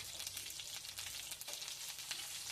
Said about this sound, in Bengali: ওই তেলের মধ্যেই আমি আলুটা দিয়ে দিলাম আলুটাকে দিয়ে একটু তেলের মধ্যে নাড়াচাড়া করে